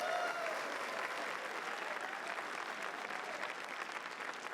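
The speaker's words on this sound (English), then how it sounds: "let's give a big round of applause for all of my leadership that came up here and spoke to you today" An audience at a convention opening ceremony claps steadily in sustained, dense applause, heard from a distance and evenly loud throughout.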